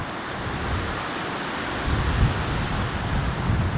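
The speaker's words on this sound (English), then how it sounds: "Oh, that wind." Wind gusts across an open golf course, roaring into the microphone as broad rushing noise that swells louder partway through.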